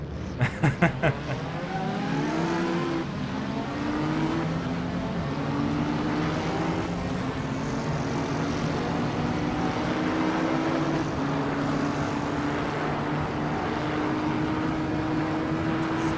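A Lamborghini Huracan race car in Assetto Corsa runs through the gears with a steady engine drone, its pitch climbing and shifting, under continuous loud track noise after a brief burst of sharp clicks at the start.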